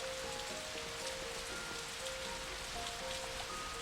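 Steady rain patters against a window glass, a dense continuous hiss of drops with a faint tonal hum underneath, heard alone at an even level throughout.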